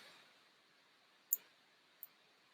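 Two faint, sharp computer mouse clicks, the second softer than the first, about 0.7 seconds apart in an otherwise quiet room while shapes are drawn in Google Drive's drawing tool.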